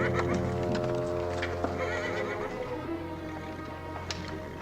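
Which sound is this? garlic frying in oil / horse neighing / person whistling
horse neighing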